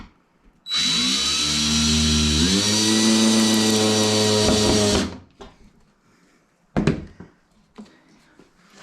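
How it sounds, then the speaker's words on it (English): An electric screwdriver driving small screws while building a custom RGB neon LED backlit sign, one loud sustained whirring run of about four seconds that rises in pitch, followed by quieter handling clatter and a brief second burst. "and then grab a little screw, my electric screwdriver"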